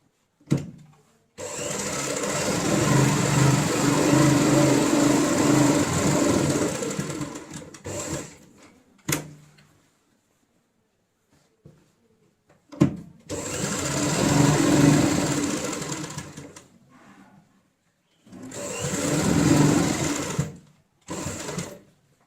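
A sewing machine stitches a tote-style ladies' purse in bursts of rapid, even needle chatter, two long runs and a shorter one separated by pauses and soft handling clicks, heard close and alone.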